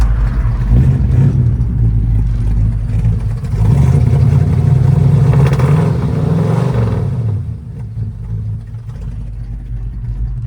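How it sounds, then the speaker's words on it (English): A 1968 Ford Fairlane 500 Fastback engine runs steadily while warming up, a loud low rumble that swells briefly in the middle and then settles back to a constant idle. "let her keep warming up"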